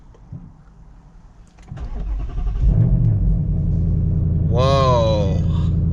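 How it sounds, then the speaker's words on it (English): A 2019 Ford Mustang Roush cranks and fires up, the engine catching with a rising roar and then settling into a loud, steady idle, with a brief voice heard over it near the end. "So let's start her up and see how she sounds."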